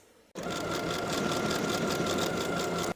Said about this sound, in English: Now I'll sew the 3 buttonholes in place.